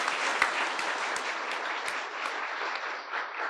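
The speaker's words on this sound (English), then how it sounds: "I want to stop and applaud." Audience applause at an event celebrating Hollywood icon Anna May Wong, a steady dense wash of many hands clapping for a few seconds, fairly loud and continuous with occasional sharper claps standing out.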